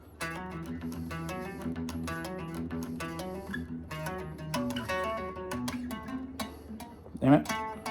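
Distorted electric guitar on a six-string plays a riff, a quick run of picked notes and chords ringing clearly, ending with a sharp scrape.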